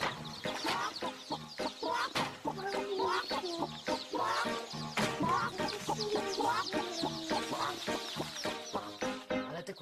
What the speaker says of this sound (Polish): Ale te kurczęta są głośne.